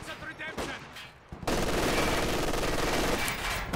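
An MG42 machine gun in Company of Heroes firing a sustained rapid burst that starts abruptly and runs loud and continuous, following a brief stretch of commentary talk.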